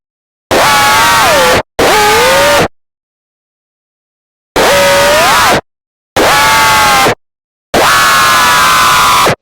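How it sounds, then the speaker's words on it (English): A hard dance screech synth patch built in Vital plays in five separate bursts with silent gaps between them, a loud, bright, harmonically dense tone whose pitch bends and wobbles, heard alone without talk. "This is where the screech starts getting less predictable and more alive."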